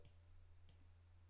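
Two crisp mouse clicks on a continue button, about half a second apart, close and quiet, with no other sound around them.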